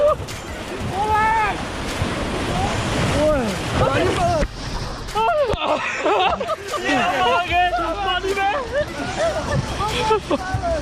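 Fast river water rushes and splashes against a boat, a turbulent roar with wind buffeting the microphone, heard under loud, excited talking from several people throughout.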